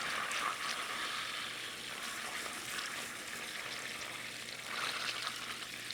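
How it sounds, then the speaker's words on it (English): Butter foaming in a pan for cookie dough, heard as a steady, fairly quiet crackling sizzle with small popping bursts, continuous throughout. "Yeah, the butter is foaming. We can hear it."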